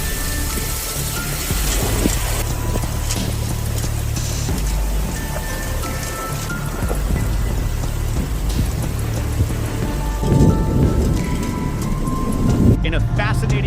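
A steady wash of heavy rain from a tropical storm pours continuously, with low rumbling underneath and a swell of louder noise near the end; a voice speaks faintly beneath the downpour.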